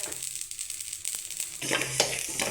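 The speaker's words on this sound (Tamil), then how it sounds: "கடுகு பாருங்கள் இந்த மாதிரி பொரியணுங்க" Mustard seeds splutter and sizzle in hot oil in a pan, with fast crackling pops over a steady fry and the scrape of stirring, close and moderately loud, growing busier toward the end.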